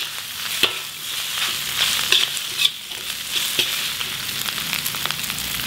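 Bean sprouts, cabbage and greens stirred in a smoking wok for fried kwetiau: a steady loud sizzle broken by repeated sharp scrapes and clacks of the spatula against the pan.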